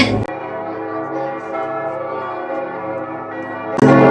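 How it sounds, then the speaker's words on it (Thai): Church bells near Thun castle in Switzerland ring loudly at six in the evening, a sustained dense peal of overlapping tones that fills the whole stretch, with a brief gap near the start and a louder strike at the end. "ก็เป็นเวลา6โมงเย็นพอดีค่ะ กระดิ่งก็เลยแบบว่า เสียงดัง ลั่นโลกเลยนะคะ"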